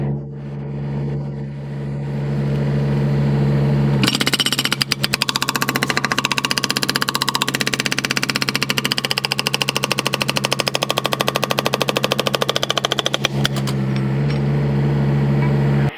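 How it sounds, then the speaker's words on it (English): A Rippa R15 mini excavator's hydraulic hammer pounds a concrete block, a loud rapid hammering lasting about nine seconds between stretches of the idling engine. "you see the power of this hydraulic hammer from this R15 is very,"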